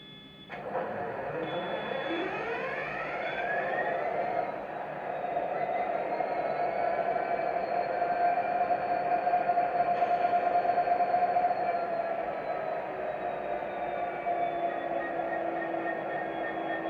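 An Accurascale Class 66 OO gauge model locomotive runs its sound functions: a startup burst gives way to a steady diesel engine drone with a held high tone, loud and continuous throughout.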